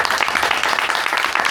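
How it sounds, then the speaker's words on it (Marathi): An audience at an indoor cultural singing gathering claps for the hosts, a dense, continuous burst of applause that fills the room without pause. "त्यांच्यासाठी एकदा टाळ्या वाजवून करूया"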